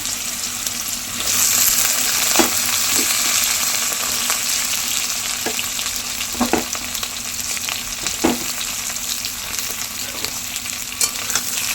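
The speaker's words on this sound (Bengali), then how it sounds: "এই আলু পটলটা দিয়ে চারা মাছের ঝোল রান্না করব মানে চারাপোনা মাছের ঝোল বসিয়ে দিলাম" Fish curry with potato and pointed gourd cooks in a pan after cumin seeds go into hot oil, giving a steady broadband sizzle with occasional pops and clinks, close and fairly loud, with no talking.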